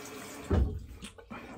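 Water from a tap runs briefly over a Parker 99R barber-pole safety razor, a short splashing gush that rises suddenly and then trickles off, quiet and close.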